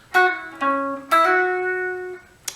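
Electric guitar plays a phrase from a solo: a few picked and slid notes ringing clearly in sequence, each sustaining before the next, ending with a brief pluck, heard alone.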